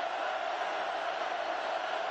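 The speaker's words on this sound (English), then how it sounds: "Listen to the crowd." A big college football stadium crowd at Purdue versus Oregon gives off a loud, steady roar that stays dense and unbroken the whole time, with no lulls.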